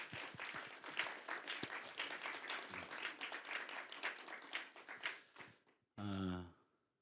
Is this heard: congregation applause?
yes